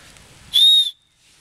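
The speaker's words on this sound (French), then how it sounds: "Le petit plus de celui-ci, c'est le sifflet de survie qui est juste là" One short, shrill blast from a survival whistle, loud and close, lasting about half a second before cutting off into quiet.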